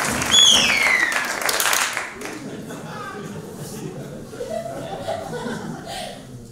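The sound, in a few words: audience applauding Benjamin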